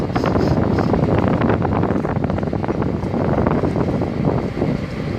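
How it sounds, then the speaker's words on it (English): Strong, steady wind roars across a sailing boat at sea, with constant buffeting and gusting rumble pressing against the microphone throughout. "gee, it's a lot of wind, hot, moist"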